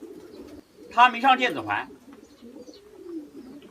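A racing pigeon with a wing broken during a race, home after three months missing, coos in low soft murmurs beneath someone talking close by.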